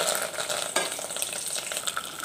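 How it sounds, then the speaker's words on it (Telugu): Mustard seeds and curry leaves crackle and sizzle in hot oil with reddened onions for masala rasam, a steady close spitting hiss with occasional sharper pops and a stir. "ఆవాలు వేస్తాను"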